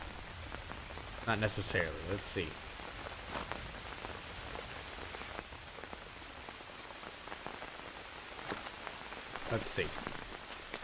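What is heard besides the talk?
rain falling in the video game Green Hell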